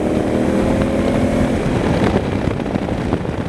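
A 2016 Honda Africa Twin adventure motorcycle riding over gravel, its engine droning steadily and close with a rising pitch midway and gritty crunching beneath.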